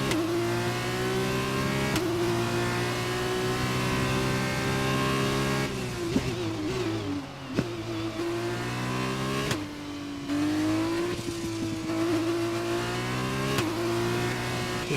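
F1 race car engine from the F1 2021 game pulling out of the pits at Barcelona, Spain, a loud steady high-pitched whine. It runs continuously with a few brief gear-shift dips and pitch rises, and no talking over it.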